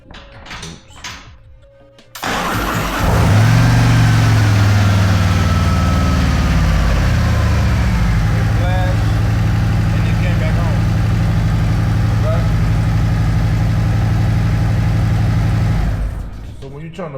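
A 2024 Harley-Davidson CVO Road Glide ST motorcycle cranks with a short starter whir, then catches and settles into a loud, deep, steady idle that runs close by for over ten seconds before cutting off. Someone talks briefly over it.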